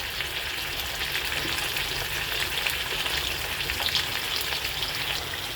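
Mixed vegetables with beans and pumpkin fry in a pan, a constant loud hiss and crackling sizzle with no voices.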